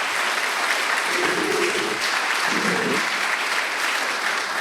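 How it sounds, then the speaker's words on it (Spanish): An audience applauds a guest speaker at a panel discussion, steady sustained clapping filling the room, with a faint voice briefly rising under it midway. "Un aplauso para nuestro invitado."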